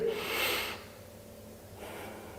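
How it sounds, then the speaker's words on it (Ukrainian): A single deep breath drawn in sharply during an abdominal exercise, a brief loud airy rush in the first moment that fades into quiet room tone, followed by a faint later breath. "Робимо вдих на 4."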